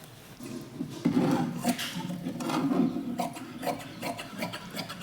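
Scissors cutting blouse fabric for a machine-work blouse piece, left with extra margin and no pins at the front: a steady close rubbing, rasping crunch of blades through cloth, repeating in soft strokes over the whole stretch with no talk.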